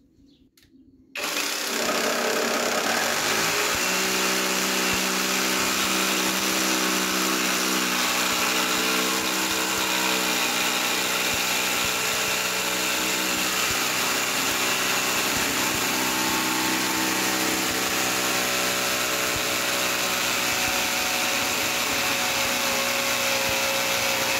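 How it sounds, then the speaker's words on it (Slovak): A power tool starts up abruptly and runs steadily at a loud, high-pitched whine with a strong buzzing hum for the rest of the clip, with no voices. "Tento druhý plátok je od Dewaltu, takže poďme na to, vyskúšame, či bude taktiež píla podrezávať."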